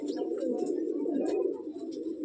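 A male Khulshia pigeon in a breeding loft coos steadily in a low, continuous murmur, close and moderately loud, with faint chirps above it.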